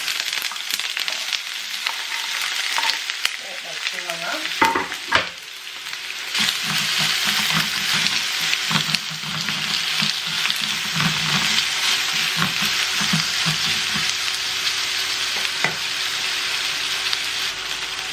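Spices frying in a little hot oil in a pan, a steady broadband sizzle running throughout with a brief stir or clatter near the middle, close and fairly loud with no talk.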